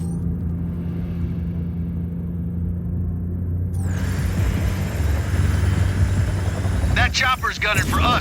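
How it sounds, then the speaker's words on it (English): Attack helicopter in the Just Cause 4 video game during a firefight, a steady loud rotor rumble that swells and intensifies midway, with game dialogue and bursts of action sound over it. "That chopper's gunning for us, Rico."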